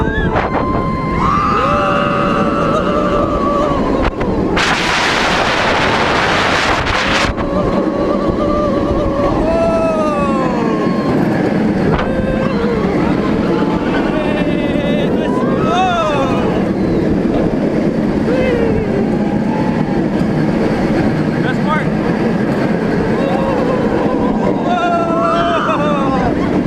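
A ride on the Flight Deck roller coaster at California's Great America: loud continuous rumble and wind roar from the train, with screams and shouts from riders over it.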